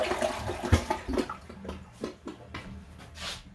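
Toilet tank refilling after augering, a soft, faint rush and trickle of water with a few gurgling bursts, alone and close by.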